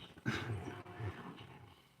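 A dog gives a few low, short vocalizations like grumbles or muffled woofs, close by and moderately loud, fading into quieter whines toward the end.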